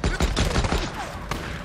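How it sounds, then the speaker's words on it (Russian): Rapid bursts of gunfire in the video game Days Gone, several sharp close shots in quick succession with a denser volley near the end, over steady game ambience. "Четыре выстрела? Как так-то"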